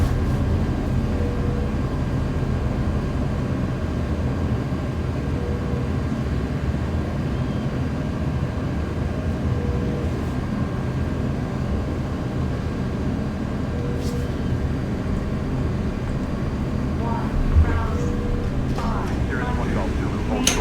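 Airbus A330 engines in reverse thrust during the landing rollout in a flight simulator game, a steady, loud, broadband roar that holds without break from start to finish.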